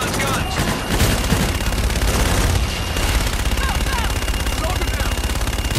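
Aircraft gun run in Call of Duty Infinite Warfare, a loud sustained burst of rapid machine-gun fire with booming impacts over dense battle noise, with voices underneath.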